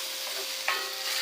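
Tomato sauce for seafood pasta is stirred in a pan, giving a brief soft bubbling and scraping over a steady hiss, with one small clack partway through.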